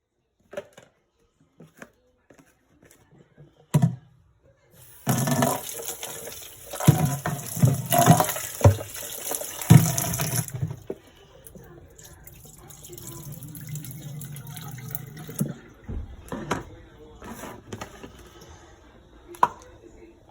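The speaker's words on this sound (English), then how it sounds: "I'm gonna get to my scallion, thyme, and pepper. So I'm gonna wash it off." Scallion, thyme and pepper rinsed under a kitchen tap for Jamaican pumpkin rice, with running water splashing into a sink for several seconds between scattered handling knocks and drips.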